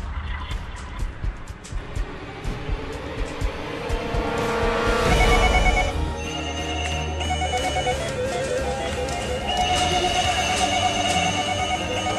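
Several telephones ring at once in a TV station newsroom, overlapping electronic trills and tones that continue without pause.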